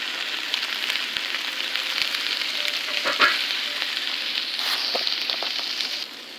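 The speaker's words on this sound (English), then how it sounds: "I'm going to add in my garlic now into the onion to cook in." Garlic and onion sizzle in a frying pan, a steady close crackling hiss with occasional stirring clinks and pops, fading slightly at the end.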